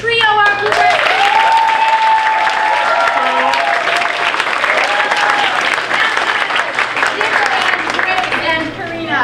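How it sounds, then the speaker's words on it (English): Audience applauds a singing trio at a chorus night, with cheering and excited voices mixed into steady, loud clapping that runs throughout. "Can I get a huge round of applause for our trio, our blueberry"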